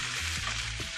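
Toasted buttery panko breadcrumbs being stirred in a hot pan, a dense continuous sizzle with two soft scrapes, close and fairly loud for one brief second.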